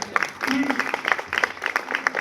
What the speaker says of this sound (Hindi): एक बार अपने घर के आंगन की तुलसी के सम्मान में आपकी जोरदार तालियां हो जाए